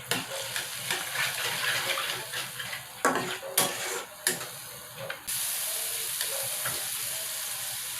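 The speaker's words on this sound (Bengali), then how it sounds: "আমি মশলাগুলো আর টমেটোটাকে একসাথে কষিয়ে নেব" Spices and tomato sauté in an oil pan for an egg and potato curry, with a steady sizzle, scraping spoon strokes and a few sharper clinks against the pan, all close up and without talk.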